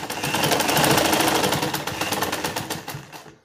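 A sewing machine stitches underwear fabric for a transparent bubu gown, running in a steady rapid whir of needle strokes for about three seconds before winding down and stopping.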